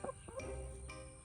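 A chicken gives a brief, soft cluck, quiet and close.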